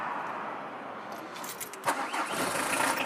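Peugeot 306 engine cranks and catches after preheating, a brief starter whir giving way to a rough, rising engine note, moderately loud and close.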